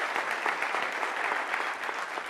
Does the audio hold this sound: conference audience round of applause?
yes